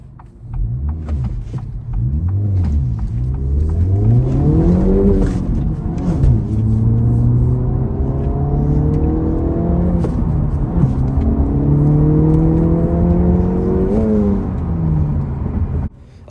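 A 2024 Acura Integra Type S with a 2-liter turbocharged four-cylinder pulls hard from low speed. The loud rising engine note climbs through several upshifts, each followed by a dip and a fresh rising sweep.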